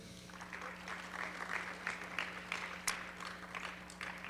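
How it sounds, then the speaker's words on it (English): Quiet applause rises from the crowd at a school board of education meeting, scattered claps building into a soft steady patter over a low room hum. "We still clap it up even though they're not here."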